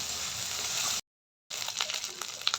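Ginger-garlic paste and onion paste sizzle steadily in hot oil in a pan, a bright continuous hiss that breaks off briefly and returns with small pops and stirring scrapes.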